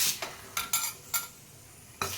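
Coriander seeds roast in a pan as a spoon stirs them, giving a handful of quick, dry scraping strokes with light metallic clinks over quiet background sizzle.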